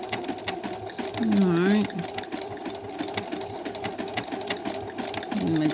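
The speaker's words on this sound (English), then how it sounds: "it's going to be sewing perfectly for her" A Brother CS7000i computerized sewing machine stitches a large decorative curly pattern, its rapid motor whir steady and close throughout, while someone talks briefly over the running machine.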